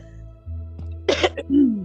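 A single close cough, sharp and rough, with a short throat-clearing sound trailing after it over a quiet background hum.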